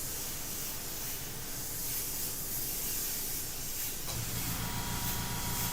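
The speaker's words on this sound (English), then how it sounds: "Jeff killing it with that airbrush" An airbrush sprays Purely Pigments pigment with a steady, close, breathy hiss that holds for the whole stretch and shifts slightly in tone partway through, with no voices.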